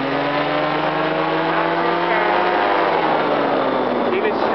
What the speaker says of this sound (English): All right, now give it some gas and let's go.